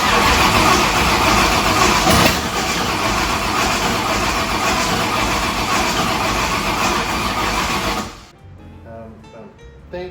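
A 1965 Ford Thunderbird with a FE 390 engine cranks over on a weakening battery, a loud continuous churning that holds steady for about eight seconds and then cuts off abruptly, leaving quiet background noise.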